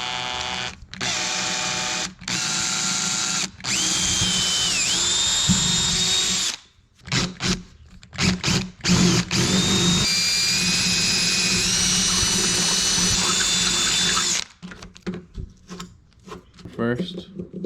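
A power drill bores a door latch hole in a wooden door, running in long loud whining bursts with brief pauses, then several short stuttering pulses and a quieter tail.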